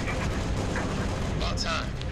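Rumbling gunfire and blasts from the video game Halo Reach fill the short stretch, dense and continuous, with voices over the din.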